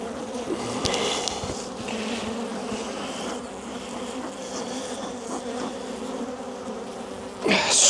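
A dense, continuous buzzing of many honeybees swarming close by at an opened hive during inspection, steady throughout with a brief rustle at the end.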